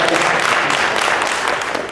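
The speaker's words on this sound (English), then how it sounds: "That's a good place to clap." A crowd applauds steadily at a women's straight-talk panel event, a dense, fairly loud wash of clapping that holds for about two seconds and fades slightly at the end.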